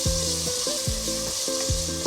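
Onion sizzles in a hot pan while a utensil scrapes and stirs it, giving a bright continuous frying crackle with rhythmic, clattering stirring strokes repeating close up.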